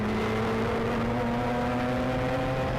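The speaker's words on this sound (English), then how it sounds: "Look at how hard Rusty Mitchell has to work this race car off the final corner here at Mosport." A Star Mazda race car accelerates hard off the final corner at Mosport, its engine note climbing steadily in pitch, loud and continuous, heard from on board without voices.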